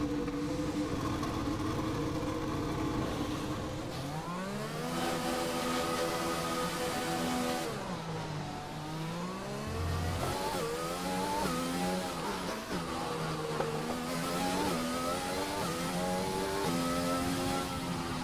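A Formula 1 car engine screams through the gears in F1 2020 during practice at the Brazil circuit. The pitch repeatedly climbs and drops with each shift and braking zone, loud and close, with no talking.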